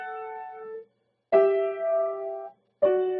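Parallel sixths played on a piano: three separate two-note intervals struck one after another, each ringing and fading with short silences between, close and clean with no voices.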